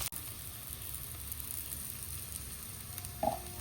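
Softened onions sautéing in a pan, a steady close sizzle and crackle of frying that runs without a break, with a brief clink near the end.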